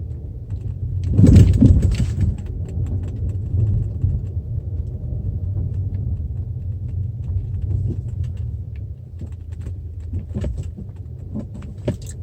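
A 2020 Chevy Equinox with a 2.0L turbo rolls slowly over a rough, rocky road. Its low cabin rumble is steady, broken by a jolt early on and small knocks and rattles from the bumpy surface.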